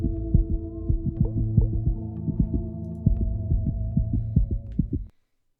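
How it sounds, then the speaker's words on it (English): Steady, close heartbeat pulses in the video game The Void throb in an even rhythm over a low sustained hum, then cut off abruptly near the end. "Unless this heartbeat is because of the sleeper"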